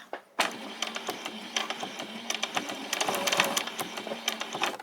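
A small sewing machine stitches fabric in a rapid rattling run of needle clatter after a brief pause, close up and fairly loud with no voices.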